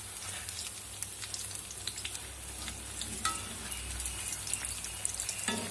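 Potato bondas frying in hot oil give a steady close sizzle with light crackling and occasional stirring clinks, no voices.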